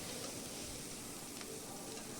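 Mixed vegetables fry on low heat in a pan, giving a steady, soft, continuous sizzle and hiss with a faint occasional stir, heard alone at low volume.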